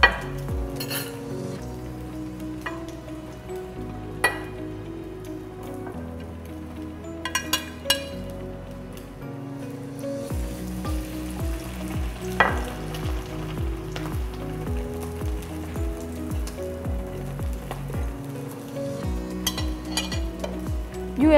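Egg-dipped bread slices fry in a pan for a breakfast dish, with a soft sizzle under repeated scraping and stirring, clinks of utensils against the pan and a few sharp metallic taps throughout.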